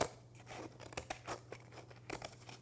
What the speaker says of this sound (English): what you can do with your scissors is just start cutting on one edge